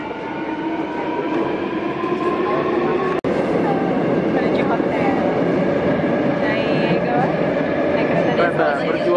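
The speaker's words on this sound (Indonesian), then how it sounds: "Pengen nyobain dari airport naik kereta." AREX airport rail train ride from Incheon to Seoul, a steady rumble of the carriage in motion with a brief sharp click near the middle, heard from inside the car while people talk over it.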